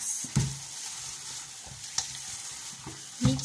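Fish frying in a pan while being mixed, a continuous sizzle broken by several sharp stirring scrapes and knocks of a utensil, close and alone without talk.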